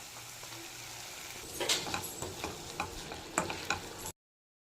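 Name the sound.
vegetables and peas sautéing in butter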